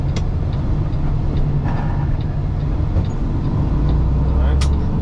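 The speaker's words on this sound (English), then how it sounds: "I rev match. You know, just a little gas, bring up your RPM, and then you drop it into the lower gear." A Kenworth T880 truck with a 10-speed gearbox drones with a continuous deep engine rumble that swells in pitch and loudness near the end, as if revving during a downshift.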